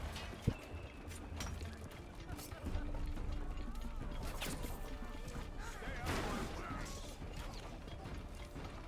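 A portcullis crank in a video game turns with mechanical ratcheting clicks and creaks, mixed with hoofbeats and battle noise, moderately loud over busy game ambience.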